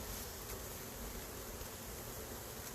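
Honey bees hum steadily inside an opened backyard hive, a dense, even drone that stays constant and fairly faint with no voices.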